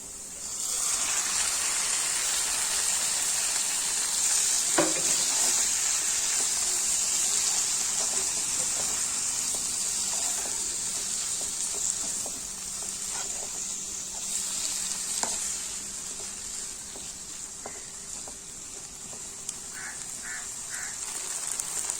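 Small-cut squid pieces fry in a pan of masala with a steady, bright sizzle, broken by occasional soft clicks and scrapes of stirring.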